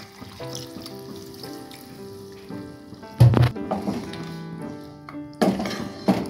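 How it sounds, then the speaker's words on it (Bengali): Water poured into a pan of chicken Kolhapuri masala, giving a gurgling splash and a sudden hiss over the simmering sizzle, with a couple of louder bursts and light pan knocks. "এরপর আমরা দেবো এর মধ্যে পরিমাণ মতো জল।"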